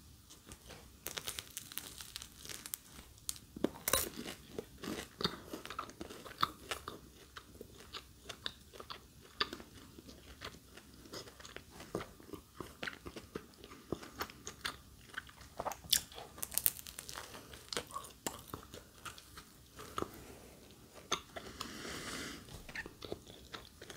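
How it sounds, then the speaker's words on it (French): Crunchy croissant from a Marie Blachère bakery being bitten and chewed close up, with repeated crisp crackling bites and steady chewing throughout, quiet and intimate with no talking. "Je vais enchaîner avec un croissant."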